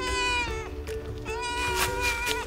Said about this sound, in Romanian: Pisica ce e acolo?